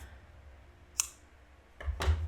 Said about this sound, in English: So just cut the yarn